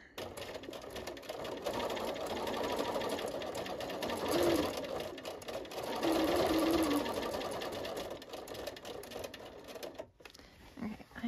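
A Bernina 440 sewing machine stitching a spider-web quilting pattern, its rapid needle chatter running steadily for about ten seconds, briefly stopping, then restarting close by.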